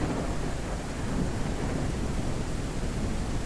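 Steady broadband rain hiss with a low rumbling undertone fills the scene in the Kayak VR: Mirage game's Norway setting, even and continuous at moderate level with no voices.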